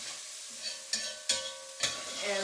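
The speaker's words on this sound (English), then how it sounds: "I'm starting off by browning some onions" Onions browning in a pan give a soft, steady sizzle, close and quiet, with a few sharp scraping stirs breaking through.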